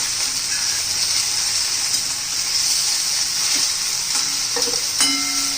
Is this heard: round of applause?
no